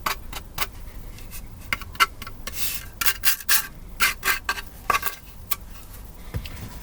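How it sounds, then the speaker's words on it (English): Burrs being filed off small metal parts, a series of short, sharp rasping scrapes in irregular bursts, close by, with light metallic clinks between strokes and no voices. "it is best to take off the burrs"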